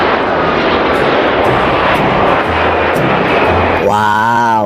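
A loud, steady airplane engine roar plays as a toy plane's sound effect, filling the clip before a voice cuts in at the end.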